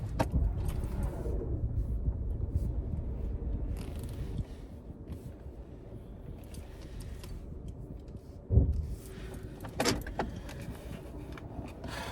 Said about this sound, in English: let you all hear how this car sounds